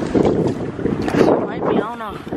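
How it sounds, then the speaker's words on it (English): Wind gusts across a lake during pedal boating, rumbling hard against the microphone in loud buffeting surges, close and continuous, with a bit of water and boat noise underneath. "It was getting windy out here, boy."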